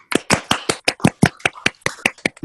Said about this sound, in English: I feel we should all unmute and clap.